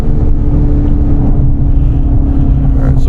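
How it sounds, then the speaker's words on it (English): An electric General Lee car launches and burns its tires, a loud continuous low roar with steady rumble and broadband noise lasting throughout, no voices. "It burnt the tires that time"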